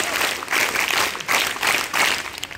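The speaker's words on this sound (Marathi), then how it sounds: "पांडुरंग गुरुजी सरांसाठी एकदा 3 टाळ्या." A group of students at a school International Yoga Day 2024 event claps for their yoga teacher in three distinct bursts of crowd applause, each about half a second long, evenly spaced and fairly loud.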